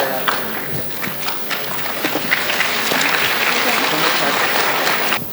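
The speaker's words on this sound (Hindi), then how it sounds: "जोरदार तालियों के साथ स्वागत करें हमारे अतिथि श्री परवेज़ बशीर सर का" An audience claps for a guest being welcomed at an event, a dense patter of applause that swells and stays strong throughout.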